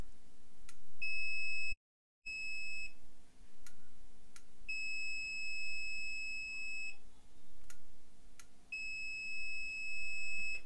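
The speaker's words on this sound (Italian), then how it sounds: "si accenderanno questi led e metterà il beep, in questo caso un pochettino più forte dell'altro" A GVDA smart digital multimeter emits long, shrill electronic beeps, three sustained tones separated by gaps, with faint clicks and a low hum underneath.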